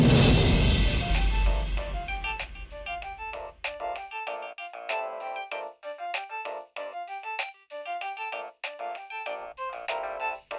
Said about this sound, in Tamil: யார் ஃபோன் பண்றது?